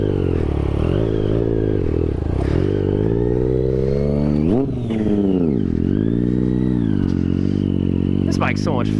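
A Daytona motorcycle being ridden for wheelie practice, its engine droning loud and close with the pitch sweeping up and down through revs and gear changes, a brief dip midway, and faint voices beneath.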